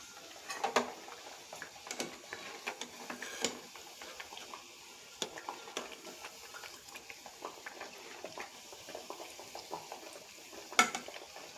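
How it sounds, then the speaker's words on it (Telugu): Palmyra fruit fritters, tati burelu, frying in oil: a soft, continuous bubbling sizzle at moderate distance, dotted with small crackles and occasional clinks of a utensil against the pan, no speech. "మన బూరెలు అయితే వేగుతున్నాయి"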